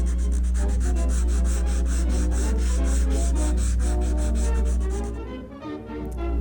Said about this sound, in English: Now I'm going to sand. This is a harsh 80 grit.